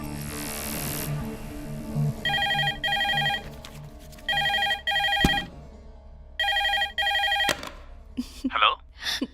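A telephone rings in repeated electronic double bursts with pauses between them, loud and close, after a brief hiss at the start, with faint talk and movement near the end.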